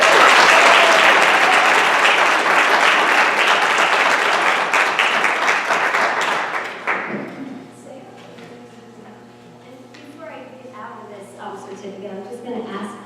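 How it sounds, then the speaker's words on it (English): An audience at a school board of education meeting breaks into loud, dense applause that holds for several seconds, then fades out as a voice begins speaking over the quieter room. "I think they deserve another round of applause."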